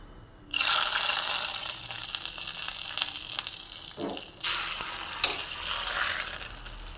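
Dry red chilies frying in coconut oil, a steady loud sizzle that starts abruptly and crackles on without a break, with a few brief stirring scrapes along the way.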